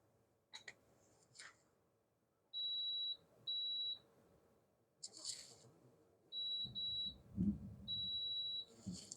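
A multimeter's continuity test gives several steady high-pitched beeps of varying length, separated by clicks and handling noise of probes on vintage Heathkit test gear, with faint speech in between.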